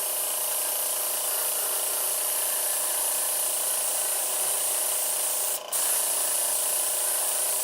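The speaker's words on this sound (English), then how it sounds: "The nice thing about the airbrush is I can go back and detail it." Airbrush spraying clear coat over gold leaf work, a steady continuous hiss of air and paint that runs the whole time with one brief interruption near the end.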